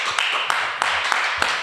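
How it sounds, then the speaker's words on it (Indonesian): Steady audience applause at a school podcast recording, a dense wash of many hands with a few sharper claps standing out at a regular beat, fairly close and filling the whole short stretch. "Wah, tepuk tangan dulu."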